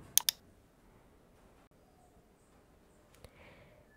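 Two quick, crisp computer mouse clicks land close together at the start, followed after a long pause by one more isolated click, all near and alone against faint room hiss.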